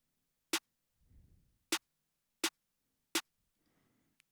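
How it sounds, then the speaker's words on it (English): A snare sample layered with a clap in a beat made in FL Studio, struck four times in a steady pattern as crisp, bright hits alone, with faint low rumbles in the gaps. "this first snare hits at the same time as the clap"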